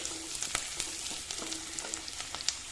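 Cumin and onions fry in oil in a pan while a cauliflower sabzi is being cooked, giving a steady close sizzle with scattered sharp crackles and pops throughout.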